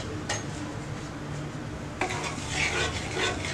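Homemade grape jam with sugar being stirred in a pan, a continuous bubbling sizzle with a couple of sharp utensil knocks, then busier scraping strokes near the end, close and moderately loud.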